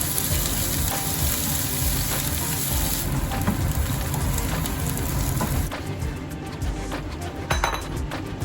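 Onion fries in a pan, a loud, dense, continuous sizzle close by, with light clinks of a utensil against the pan near the end.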